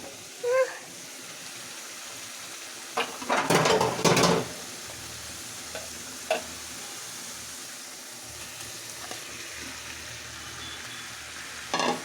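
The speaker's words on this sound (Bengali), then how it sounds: "তেলটা উপরে উঠে এসেছে, এখন আমি মাছগুলো দিয়ে দিব।" Pieces of katla fish hit hot oil for a Bengali fish curry, setting off a sharp burst of close sizzling, followed by quieter frying and a few small kitchen clicks.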